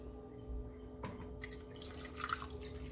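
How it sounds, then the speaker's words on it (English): Water trickles and splashes into a pot of stewed chicken and onions in a home kitchen, a soft, close pour with small drips and sloshes and no talking. "And then I'm just going to add my water."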